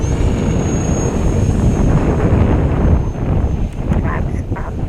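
E-flite Turbo Timber RC plane flying in heavy wind with crow flap settings, its electric motor drawing a steady, close whirring drone under power, with wind buffeting the microphone and a person talking over it.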